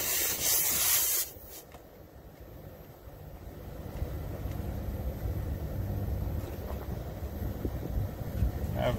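A sharp burst of R410a refrigerant hisses out for about a second while a hose is screwed onto an adapter on a low-charge mini split, then cuts off to a quieter background rumble.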